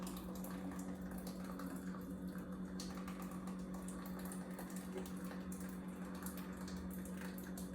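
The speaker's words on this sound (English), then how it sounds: "All my ingredients in, I'm ready to pour it in my bottle." Blended drink ingredients poured into a bottle, a steady liquid rush with a constant low pump-like hum underneath, even and continuous throughout with no talking.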